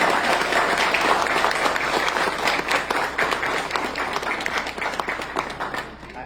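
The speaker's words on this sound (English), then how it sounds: "Can we applaud?" Audience applause at a convention opening ceremony in New York, dense and steady clapping from a large crowd that tapers off toward the end.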